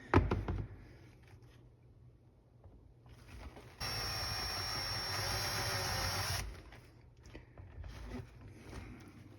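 A drill bores a 1/4 inch hole through a painted dash plate on a Yamaha YXZ, a loud steady whine lasting a few seconds between quieter handling noises.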